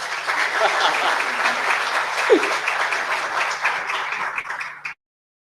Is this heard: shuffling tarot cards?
no